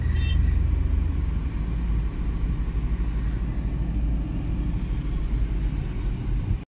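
Steady low rumble of a car engine while being driven, continuous and fairly loud throughout with no talking.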